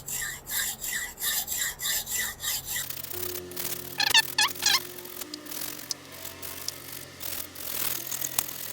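A handsaw cuts through a carbon bicycle fork steerer tube with quick, rhythmic rasping back-and-forth strokes for about three seconds. Scraping and handling noises follow, ending in a few sharper scratchy bursts.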